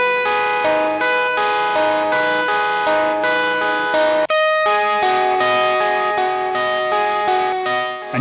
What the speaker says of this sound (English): you'll be able to hear the DI and the Fender with reverb.